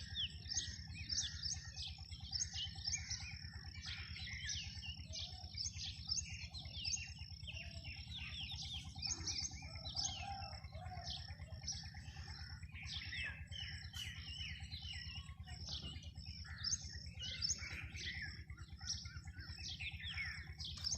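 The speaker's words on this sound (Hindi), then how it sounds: "आपने खुद भी सुनी हो कि चिड़ियों की आवाज़ें कितनी प्यारी आ रही हैं।" Many small birds chirp and twitter continuously over a village rooftop in the early morning, a busy, fairly distant chorus of quick repeated calls above a low steady hum, with no talking.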